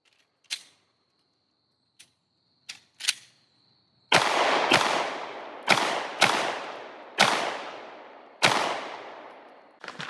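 Pistol shots fired at targets in a shooting drill: a few sharp distant-sounding pops first, then six loud close reports spaced about a second apart, each with a ringing decay.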